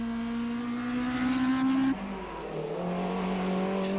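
A Toyota four-wheel-drive rally car runs on stage 1 of a 1990 international rally, its engine droning loud and close, pitch rising under acceleration, dropping sharply at a gear change, then climbing again.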